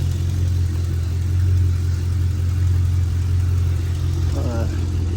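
A 2010-2014 fifth-generation Chevrolet Camaro engine idles steadily after a P0302 misfire repair, a close, even low rumble that holds for the whole stretch with a brief faint knock near the end.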